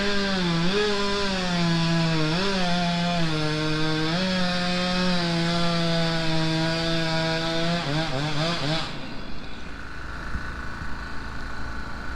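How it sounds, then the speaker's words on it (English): Loud, continuous chainsaw buzz with the engine pitch sagging and recovering as it cuts through a fallen tree, then abruptly cutting off near the end. "That is the sound of a chainsaw, of course."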